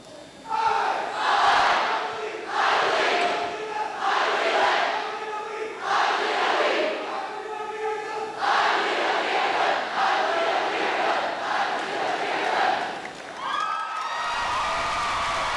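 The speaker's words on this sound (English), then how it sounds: "leading the nation in the I Believe cheer" A high school graduating class of 2018 chants the I Believe cheer together at commencement, a loud crowd shouting in rhythmic bursts that builds over the whole stretch, ending in cheering.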